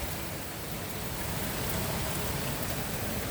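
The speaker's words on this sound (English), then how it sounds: "Since it's raining." Steady rain falls on a new roof, a dense, even hiss of drops spread across the whole clip at a constant level, with no voices.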